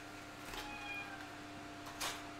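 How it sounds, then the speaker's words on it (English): A cat meows twice indoors, two short, fairly soft calls about a second and a half apart, over a quiet room hum with no talk. "Don't know why you keep meowing, kitty."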